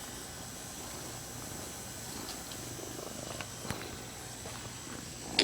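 A cat purrs softly in a steady, low, continuous rumble close to the listener, with a few faint clicks and rustles near the end.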